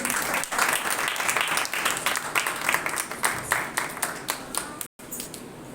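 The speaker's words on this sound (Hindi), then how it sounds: "इसलिए हम खुदा के लिए जोरदार तालियां बजाएंगे।" A church congregation claps in praise of God with loud, rhythmic handclaps in quick succession, keeping a steady beat before a brief break near the end.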